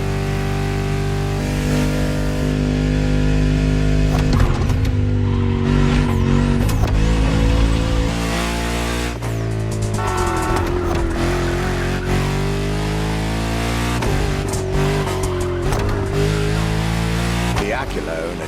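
Car engine in The Crew Motorfest, driving a French luxury car on the roads of Maui, Hawaii: a loud, continuous drone that climbs in pitch and drops back at several gear shifts.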